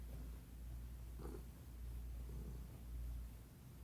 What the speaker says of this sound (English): there's a cat in my room